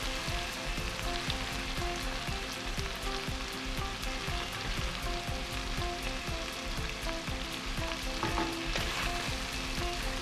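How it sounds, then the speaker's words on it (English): Mutton pieces fry and caramelize in a pan for rogan josh, a dense, continuous crackling sizzle like steady rain, held close and even throughout with no speech. "we want to cook the mutton for at least 10 to 15 minutes until it's caramelized like this"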